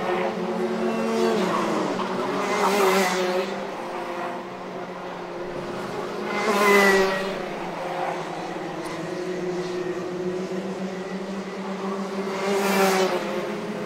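Racing karts in a Junior MAX karting race scream past at high revs, engine notes rising and falling as several pass close by in waves, with tyre scrub through the corners.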